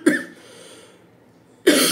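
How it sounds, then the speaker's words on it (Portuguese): A man coughs during a Portuguese Bible study talk: a strong cough at the start, a quieter rasping trail, then a second loud cough near the end, close and clear with no speech. "perdão a tosse"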